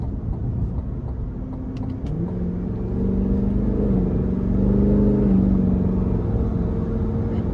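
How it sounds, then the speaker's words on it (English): A supercharged 6.2-litre V8 in a 2023 Cadillac Escalade V-Series revs under light throttle in manual mode, a steady deep rumble whose pitch climbs and settles, heard close from inside the cabin without talk. "put the V on, and then just give it a little bit of throttle"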